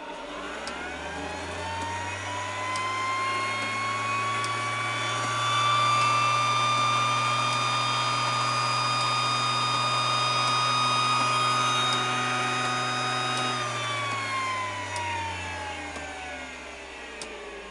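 A homemade coil winding rig running steadily, a sustained motor whine with a low hum and rising then falling pitch as it spins up, holds speed and winds down, alone without talk.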